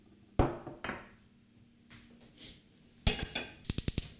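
A saucepan for melting butter over low heat is handled, giving sharp metallic clanks and knocks, then a quick run of ringing clinks at the close.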